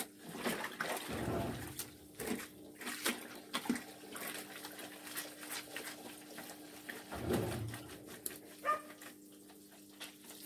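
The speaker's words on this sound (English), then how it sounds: "Guys, here my neighbor dog." A neighbor's dog barks and whimpers in short, moderately distant bursts while water splashes nearby during hand-washing of white laundry.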